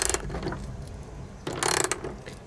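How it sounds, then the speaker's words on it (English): A hand ratchet tightens bolts through an insulated van subfloor, giving quick runs of clicking pawl strokes close by, with a louder, denser burst of ratcheting partway through. "it's easier for me to do the ratcheting from above"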